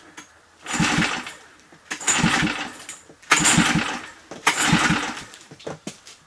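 A Mercury outboard boat engine is cranked four times in a row, each long churning turnover stopping without catching, close and loud, with short pauses between attempts.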